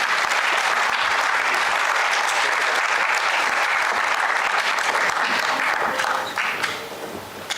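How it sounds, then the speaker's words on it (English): Sustained applause from a large audience at the World Toilet Summit 2025 as honorees come up on stage, loud and dense, then thinning and fading near the end. "So let's have a round of applause for this."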